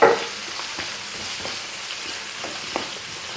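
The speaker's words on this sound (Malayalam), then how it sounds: "നല്ലതായിട്ട് നല്ലതായിട്ടൊന്ന് വഴറ്റി കൊടുക്കാം ഉള്ളി പെട്ടെന്ന് വഴൻ്റെ കിട്ടാനായിട്ട് നമ്മൾ ഉപ്പിട്ട് കൊടുക്കുകയാണ്" Onions with salt sautéing in a pan for a Kerala kizhi parotta filling: a steady close sizzle with light stirring scrapes throughout, no voices.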